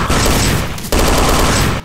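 Dense, continuous gunfire from weapons in Garry's Mod, a loud unbroken rattle of rapid shots with a brief gap near the middle before it resumes and cuts off abruptly.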